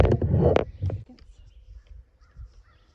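Crows caw on a farm during fence-line burning and corn planting, a few harsh close calls at the start, then quieter low noise.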